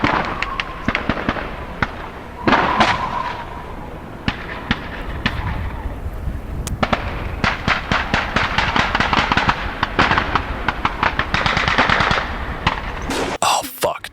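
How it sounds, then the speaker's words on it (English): Distant battlefield gunfire in the Call of Duty video game: scattered single shots and rapid automatic bursts crack across a steady low rumble, some sharp and close, others muffled, building to dense clusters near the end. "my favorite being the distant gunfire you hear on every battlefield"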